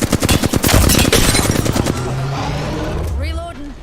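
Dense, rapid bursts of automatic gunfire from a video game hammer away close and loud for about two seconds, then ease off as a voice starts talking over the fading action.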